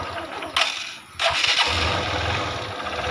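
A motorcycle engine coughs and catches after a couple of cranks, then settles into a close, steady idle rumble.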